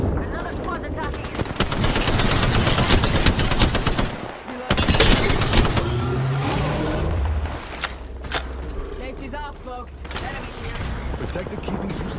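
Rapid automatic gunfire rattles in Apex Legends, with loud sustained bursts, a brief pause, then more shots and trailing shell and mechanism sounds, while a voice talks underneath.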